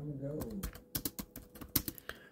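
Fast bursts of keystrokes on a computer keyboard, close and clicky, with a brief stretch of voice at the start before the irregular typing takes over.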